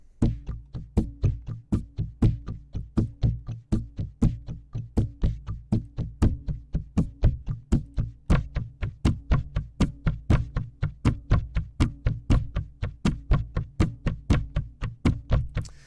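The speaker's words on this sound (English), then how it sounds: "the bowed bucket can do a lot of percussion as well" Rapid, even knocks on a bowed bucket's hollow resonant surface, a steady stream of deep booming taps repeating about twice per second throughout.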